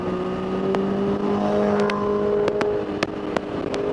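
A motorcycle engine revs hard behind a Triumph Tiger 900 on a Bangalore-to-Coorg ride, held in one gear without shifting, a steady droning whine under wind noise with a few sharp clicks and taps.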